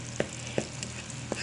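Boiled baklava syrup mixture being stirred in a pot, with faint sizzling bubbling under three soft, evenly spaced scrapes of the spoon, quiet and close.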